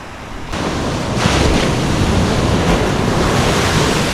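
Sea waves surge and wash onto Dublagadi beach in Balasore, a steady roaring surf with wind buffeting the microphone, loud and continuous with no voices.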